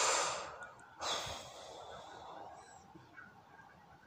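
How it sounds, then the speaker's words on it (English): A person breathes in and out, with two soft, breathy rushes of air up close at the start, fading into a quiet, hissy background. "breathe in, breathe out."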